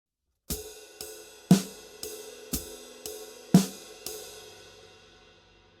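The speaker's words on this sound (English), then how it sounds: "And the hi-hat foot version on the right-hand side would sound like this." Drum groove with the hi-hat played by foot pedal: eight evenly spaced hits about half a second apart, stronger accents on the second and sixth, ringing cymbal wash tailing off at the end, no talking.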